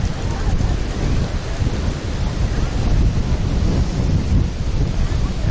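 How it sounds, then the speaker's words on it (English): Strong wind buffets the microphone in a constant heavy low rumble and roar that lasts the whole stretch, loud and close, with no clear talk over it. "the wind has not died down"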